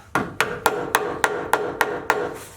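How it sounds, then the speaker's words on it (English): A hammer taps TeraFlex HD shackle bushings into a vehicle frame, eight evenly spaced sharp metallic knocks close up, with no talk. "we gotta insert these bushings into the frame here. Just gonna give these a little tap"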